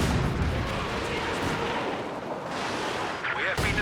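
A Katyusha rocket barrage in the Company of Heroes 2 game, heard as a dense, continuous rumbling roar of blasts that stays loud from start to finish.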